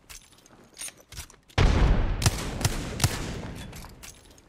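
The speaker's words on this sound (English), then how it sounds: "Frag thrown." A frag grenade in a first-person shooter game, a few light clicks and taps followed by a sudden loud blast with a long rumbling, crackling decay, heard alone.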